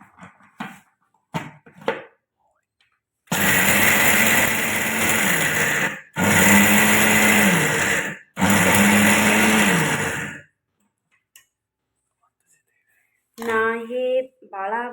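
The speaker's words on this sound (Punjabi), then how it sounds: "ਸਭ ਤੋਂ ਪਹਿਲਾਂ ਆਪਾਂ ਨੇ ਛੋਲੇ ਗ੍ਰੈਂਡ ਕਰਨੇ ਨੇ" An electric kitchen grinder runs on chickpeas with their skins still on, coarse-grinding them for Punjabi pinni. It roars in three loud, steady bursts with short pauses between, and quieter clicks and handling noises come before and after.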